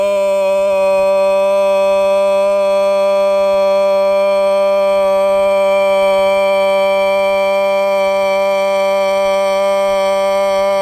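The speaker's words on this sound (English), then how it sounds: "for the third chakra, we use the sound O, as in the word go." A voice tones a long sustained O vowel for the third chakra, one steady unbroken drone with rich even overtones, loud and close, held alone for the whole stretch.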